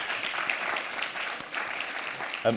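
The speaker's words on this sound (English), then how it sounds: "could we please give our panel a nice round of applause?" A seated audience at a Namibia investment summit claps for a conference panel, a steady, dense round of applause that carries evenly throughout and ends with a faint bump near the close.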